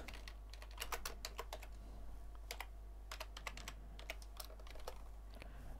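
Close, quiet keystrokes come in quick bursts with short pauses on a computer keyboard while a variable name is typed during microcontroller programming, with a faint steady hum underneath.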